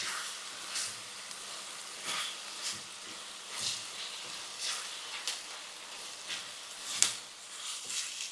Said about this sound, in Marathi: आणि पेस्ट पण आपल्याला अशी चांगली परतून घ्यायची.